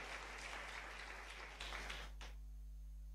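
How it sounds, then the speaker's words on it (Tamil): A church congregation claps in applause at a Sunday service in Chennai, a dense, steady roar of hands that fades out abruptly, leaving a low hum. "நல்ல ஒரு பெரிய கரகோஷம் கொடுக்கலாமே"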